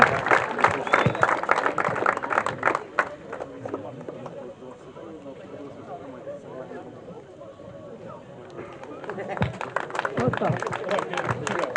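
Audience applause at a Ukrainian physical culture and sports day award ceremony, where certificates are handed out; dense clapping rises at the start, thins in the middle and swells again at the end, with voices over it.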